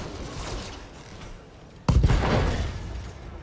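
A BattleTech autocannon shot cracks out as one loud sudden blast that breaks through a quieter mechanical hum and creaking, then leaves a rumbling tail that slowly fades.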